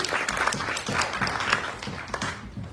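Theatre audience applause at a drama festival in Tagore Theatre, a moderately dense clapping that stays fairly even and begins to thin out near the end.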